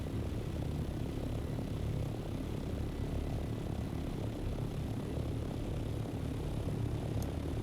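An aircraft flying in to land on sand in Dune Awakening gives off a steady, loud engine drone with a propeller-like rumble, continuous throughout with no talking.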